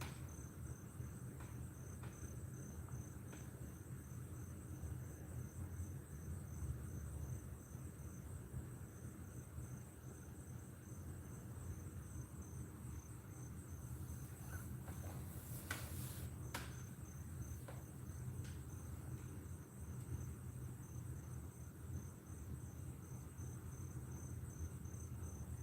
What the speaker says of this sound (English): Us and the crickets.